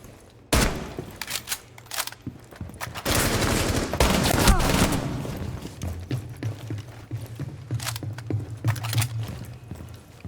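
Gunfire in Rainbow Six Siege during T-hunt aim practice, with sharp bursts of automatic shots and single cracks spread through the clip, fairly loud and close, mixed with game mechanism clicks and a voice speaking briefly.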